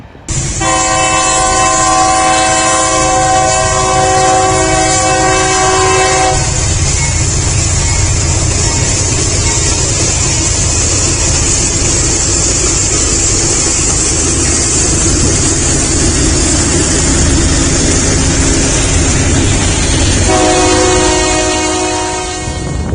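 Northbound freight train L79527 rolling past at Folkston, Georgia, into the Folkston turnout, with long loud horn blasts at the start and end over a continuous close roar and rattle of passing cars.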